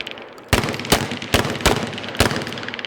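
Shotguns fire during a defensive shotgun class on an outdoor range, five sharp booming reports in an uneven sequence, fairly close, with brief gaps between shots.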